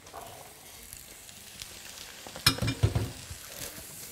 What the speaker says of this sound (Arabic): اشوح الحمص هنا